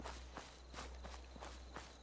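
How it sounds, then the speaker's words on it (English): Footsteps of a player character in the video game Fallout 76 tread in a steady walking rhythm, soft and fairly quiet over a low background hum, with no talk. "I'm hearing my own footsteps, and I'm freaking out about my own footsteps."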